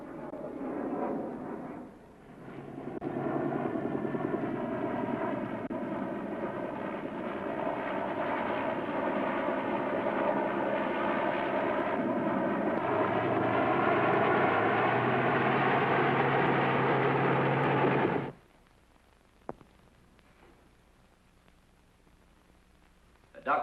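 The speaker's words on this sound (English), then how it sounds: "Circle wreckage at 1000 feet until arrival of helicopter rescue unit." Aircraft engines from a 1954 film drone loudly overhead as a plane circles wreckage, the roar rising and shifting in pitch for about fifteen seconds before cutting off abruptly into near silence.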